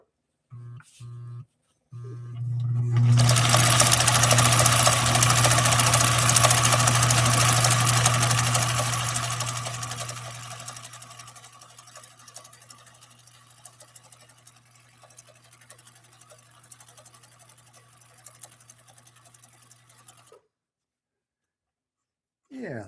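A sewing machine stitching fabric runs as a steady, loud, whirring motor hum for several seconds, then continues as a softer, lingering drone. Brief clicks come before it starts.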